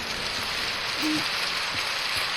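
Steady rain hiss from the video game Doors fills the whole stretch, a constant wash of pattering noise with no voices and no pauses.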